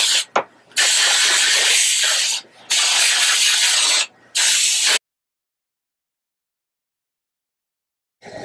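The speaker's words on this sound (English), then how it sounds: "I spray and then I scratch" Three long bursts of a spray bottle spraying water onto curly hair close up, each lasting about a second and a half with short pauses between, then silence.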